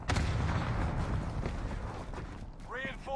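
Video game gunfire rumbles as heavy, booming shots and blasts up close, layered over each other, while a player talks over the action.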